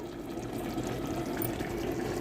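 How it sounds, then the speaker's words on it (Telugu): Water is poured into a pot of cooking bottle gourd and raw mango curry, a steady, fairly soft pour lasting about two seconds. "మిగతా ఉడకాలి కొంచెం వాటర్ వేసుకుందాము"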